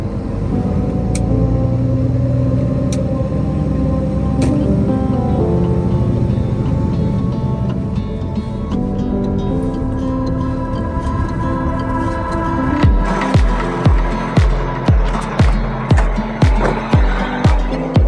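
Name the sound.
hotshot pickup truck maneuvering to back up an RV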